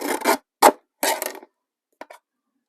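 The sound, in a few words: cutting a paper strip with a decorative edge cutter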